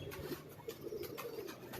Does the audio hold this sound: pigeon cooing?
yes